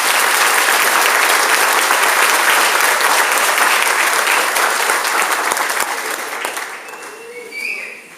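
Loud, dense audience applause for students at a sixth grade awards ceremony, sustained and even, then thinning and fading toward the end.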